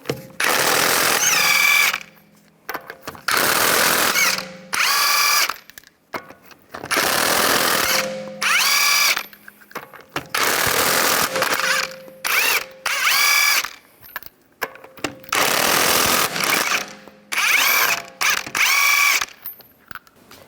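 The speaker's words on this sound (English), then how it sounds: "use a 19mm socket, take the lug nuts off" Power wrench with a 19mm socket spinning lug nuts off a 2011-2019 Ford Explorer front wheel: loud, close bursts of rattling impact-gun whirring, each a couple of seconds long, repeated about six times with short gaps.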